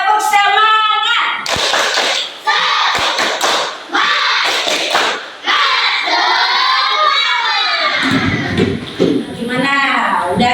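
Children in a classroom perform a rhythmic spirit clapping chant, bursts of claps and thumps alternating with loud chanted voices in a lively, close group sound.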